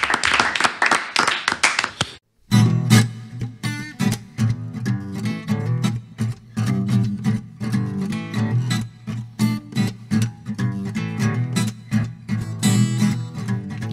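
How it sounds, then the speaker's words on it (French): Audience applause in a radio studio: about two seconds of dense clapping, then a sudden stop as guitar-driven live music begins. "applaudissements de confiance pour toi"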